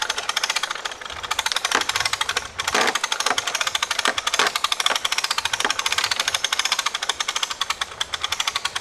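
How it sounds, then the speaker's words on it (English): A winch reels in a string to pull a ballistic sword, giving a loud, continuous rapid mechanical chatter for the whole stretch, with brief dips and pauses along the way. "It would be impossible to do this without the winch."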